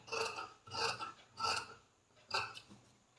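Scissors cutting blouse fabric along a marked armhole curve: four quiet, rasping snips in an uneven rhythm, close and alone with no talk.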